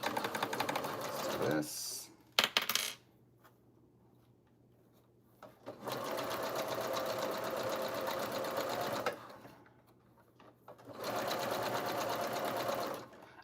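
A sewing machine runs in steady bursts while back stitching, with a brief clunk and a short spoken phrase between runs, then two longer stretches of fast even stitching.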